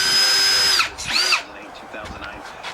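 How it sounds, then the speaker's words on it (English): A power drill bores a hole through the frame cross member of a Weber Genesis gas grill, running loud and steady for almost a second, cutting out, whining briefly again, then stopping; quiet handling noises follow. "So now all I have to do is drill a hole through each side, run a 7/16 inch bolt into each end"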